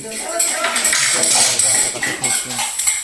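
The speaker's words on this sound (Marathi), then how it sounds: "आता लसूण ठेचायचा टेक्नॉलॉजी आहे बघा" Garlic is crushed with rhythmic knocking and clinking of metal utensils against a pot or dish, close and fairly loud, while people talk over it.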